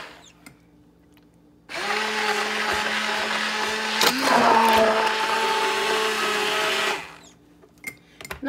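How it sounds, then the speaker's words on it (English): An immersion blender whirring through hot pumpkin soup, starting abruptly, running steadily for about five seconds with a brief surge in the middle, then cutting off into quiet kitchen clatter. "so I'm going to use my emulsifier"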